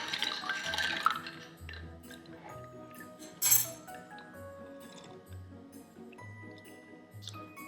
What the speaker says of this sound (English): And then add some ice. Stir it up and let's see.